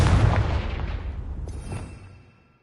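A Confringo explosion spell goes off in a PS4 video game, a single muffled boom that fades out over about two seconds, with a faint synthetic tone trailing at the tail.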